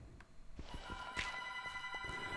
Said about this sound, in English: And there goes the goddamn phone